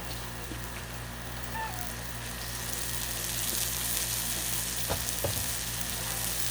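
Bagel breakfast sandwich sizzling on a Blackstone griddle, a steady close frying hiss throughout with a few brief scraping clicks near the end.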